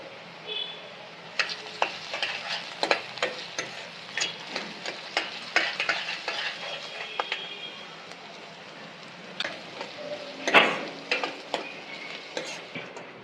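Onions and ginger fry in a pan with a soft sizzle under intermittent scraping and stirring clicks from a utensil, heard close and moderately quiet for a drumstick fry.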